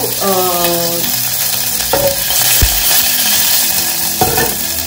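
Mustard seeds and curry leaves crackle and spit in hot oil for a dahi kadhi tempering, a loud, steady sizzle with scattered pops and clinks close by.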